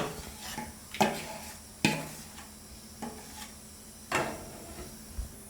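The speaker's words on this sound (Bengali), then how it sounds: "এই মারা তালটা আমি এবারে এটা ফুটিয়ে নেবো। এই দেখুন কড়াইয়ের মধ্যে দিচ্ছি" Mashed palm fruit pulp going into a wok on a gas stove for a Bengali palm-fruit poori, heard as several sharp scraping and knocking clatters of a spoon against the pan over a low kitchen hum, with no talking.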